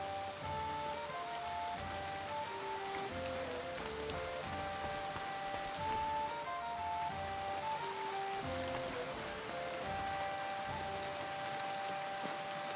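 Rain falls steadily and evenly in Kingdom Come: Deliverance 2, a constant patter on surfaces under a soft melodic music line, with no voices.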